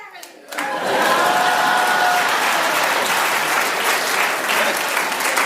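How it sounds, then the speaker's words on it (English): Studio audience applause on the panel show Just A Minute, breaking out suddenly after a short pause and continuing loud and dense to the end. "So a big round of applause for those 3,"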